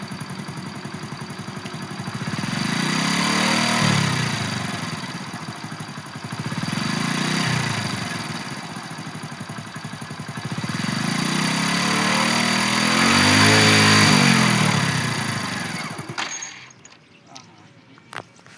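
A motorcycle engine, ridden by a learner, revs in long rising and falling swells, running steady and close for several seconds at a time before cutting out near the end.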